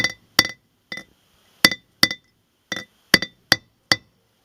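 Sharp, solid metallic hammer blows seat a wheel bearing race into a 1978 Chrysler LeBaron rotor: around ten close, loud strikes, some in quick pairs, separated by silence.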